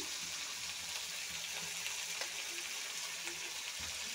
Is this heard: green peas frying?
yes